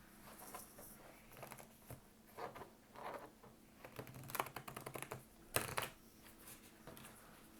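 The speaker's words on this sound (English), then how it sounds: "that was possibly the worst shuffle I've ever seen you shuffle." A deck of cards being shuffled, giving loose, uneven riffling and patting bursts that come in clusters, soft and close, with a couple of louder snaps near the end.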